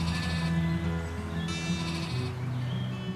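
Lambs bleat in repeated, wavering cries, several overlapping voices close by and fairly loud, with no speech over them.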